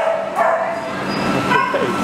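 Several dogs bark and yip, overlapping high yelps and whimpers over a steady busy background, with some talking mixed in.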